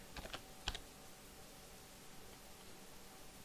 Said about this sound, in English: we type in made by